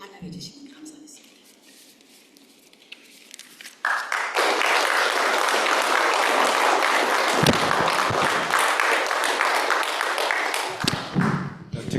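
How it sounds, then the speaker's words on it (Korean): A church congregation breaks into loud, sustained applause to welcome a new pastor, a dense clapping wash lasting several seconds after a stretch of speech, tapering near the end. "여러분 큰 박수로 환영해 주시면 감사하겠습니다"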